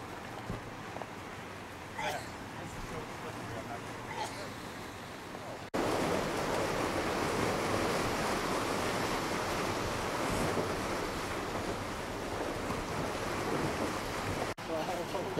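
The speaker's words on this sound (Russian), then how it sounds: "Это променад на берегу океана." Ocean surf and wind roll along a seaside promenade in San Diego, a steady loud wash of breaking waves with gusty wind buffeting the microphone, growing stronger partway through.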